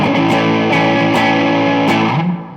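Cort G290 FAT II electric guitar through distortion playing sustained, gritty chords with a few quick changes, loud and close, ending with a slide as it fades.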